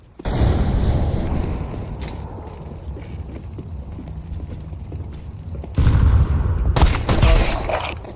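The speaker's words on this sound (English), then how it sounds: "I'm throwing a flashbang." A flashbang grenade goes off in Counter-Strike 2 with loud, sharp bursts at the start and again near the end, separated by a quieter stretch of game noise.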